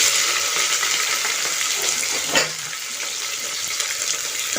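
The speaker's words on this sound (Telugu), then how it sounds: "ఇవన్నీ బాగా వేయించుకోవాలండి. ఆనియన్స్ గోల్డెన్ కలర్ వచ్చే వరకు వేయించుకోవాలి." Onions, green chilies and spices sizzle steadily in hot oil as the base for a chicken biryani made in a pressure cooker, with a brief stirring scrape midway and no talk.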